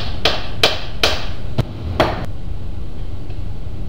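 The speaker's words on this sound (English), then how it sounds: "I know I got a 2-pound hammer in my hand, but top on the hard cast." Five sharp metallic taps from a 2-pound hammer on hard cast metal of a transaxle ring out at uneven intervals, each with a short bright decay, then the room falls quiet.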